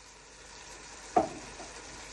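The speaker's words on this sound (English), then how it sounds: "Give that all a stir." A single spoon scrape stirs chopped tomatoes, onion, garlic and peppers sizzling softly in a pan, one brief clunk and swish over a faint steady fry.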